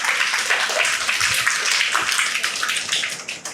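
Loud, close applause from a gathering at a Buddhist vihara in Ulhasnagar, Mumbai, a thick continuous roar of many hands clapping that tapers slightly at the end.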